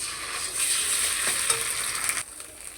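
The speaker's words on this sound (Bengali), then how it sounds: "পেঁয়াজ কুচি দিয়ে দেব, পেঁয়াজটা ভেজে নেব।" Ground spice paste and chopped onions frying in oil in a pan, giving a loud, steady, close sizzle with faint stirring scrapes before it quietens near the end.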